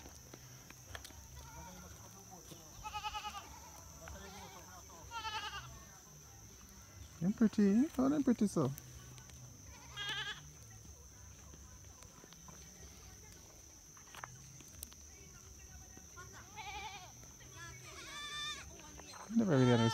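Goats bleat a few times at night along a rural road in Malton, Manchester, Jamaica, the loudest call close by, with people talking and greeting each other between the calls.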